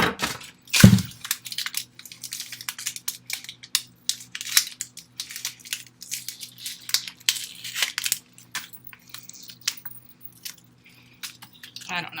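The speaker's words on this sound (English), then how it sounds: "I want to get a little bit of this onion cut up" An onion is cut up with a knife, a crisp crunch followed by a run of irregular close chopping and slicing taps over a low steady hum, with no talk.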